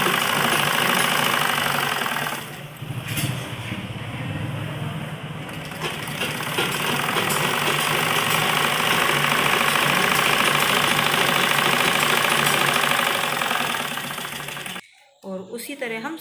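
A sewing machine stitches a child's baby frock in a steady, close mechanical whir that runs for most of the stretch, with a voice talking over it before the motor cuts off near the end.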